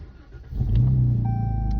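A Jeep Cherokee pulling away, its engine building from a low idle into a steady mid-pitched drone with a faint whine, close and fairly loud, no speech.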